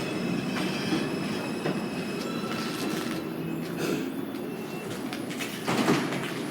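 A New York City subway 4 train, an R142, rumbles through 170th Street station with metallic wheel squeals and clanks, a steady loud roar of rail noise throughout.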